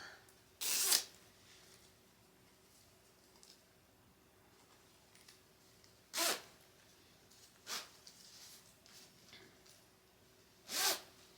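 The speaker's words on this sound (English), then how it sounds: "So can I zip it up?" A zipper runs on a small Levi's baby snowsuit in a quiet room: several short, faint zipping strokes spaced seconds apart.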